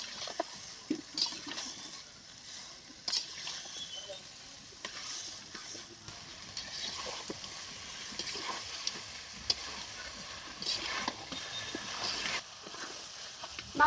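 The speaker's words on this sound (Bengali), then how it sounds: "চুই ঝাল দিয়ে দিচ্ছি, দিয়েছি ভেজে নেওয়া আলু। এখন ভালো করে কষিয়ে নেব।" Chicken is stir-fried in a pan with fried potatoes and chui jhal, giving a quiet, steady sizzle broken by irregular scraping and stirring sounds.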